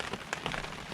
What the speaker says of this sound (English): waiting for this rain to hopefully stop here sometime soon